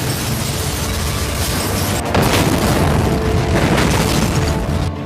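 A loud, dense bomb blast roars continuously, with a heavy burst and rumbling boom near the middle that keeps rolling to the end.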